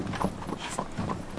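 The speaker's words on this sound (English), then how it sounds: "I swear I saw a man walked right in front of this horse and cab." Hooves of a horse pulling a cab clip-clop on a street, a few quick, close, distinct hoofbeats in a steady trotting rhythm.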